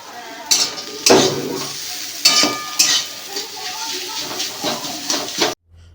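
Pasta sauce with pre-cooked meat pieces is stirred and fried in a pan, with repeated scraping strokes and clinks over a steady sizzle, close and fairly loud, and the sound cuts off abruptly at the end.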